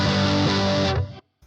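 An electric guitar played through a ProCo RAT distortion pedal rings out in one loud, thick, distorted chord that holds for about a second and then cuts off abruptly, followed by a faint click.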